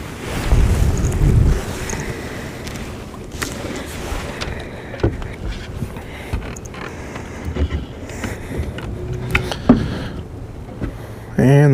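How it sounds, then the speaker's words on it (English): Wind gusting over open water with waves lapping against a small fishing boat on a cool January day, a steady broadband rush with heavy low buffeting near the start and scattered knocks and splashes throughout. "And the wind is picking up significantly."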